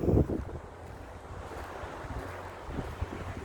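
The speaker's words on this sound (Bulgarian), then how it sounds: "Много духа вятър, дано ни се чува в видеото" Strong wind by the sea in Cyprus buffets the microphone in low rumbling gusts, with a louder burst at the start and a steady roar like rough sea surf underneath.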